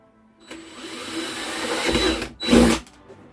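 A power drill bores a hole through the exterior body of a bus for a diesel heater install, whining steadily for about two seconds, pausing briefly, then surging louder as the bit breaks through, close up with no talk.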